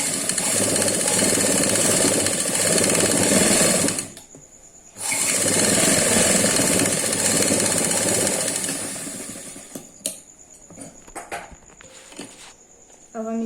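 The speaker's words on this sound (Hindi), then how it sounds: "अब हम इस पे सिलाई चलाएंगे, एक और चाप चलाएंगे।" Close, loud whirring of a sewing machine stitching a kurti jacket, running in two long bursts with a brief pause between, then stopping and giving way to faint handling clicks and rustles.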